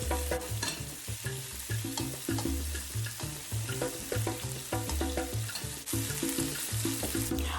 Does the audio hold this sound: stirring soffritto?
yes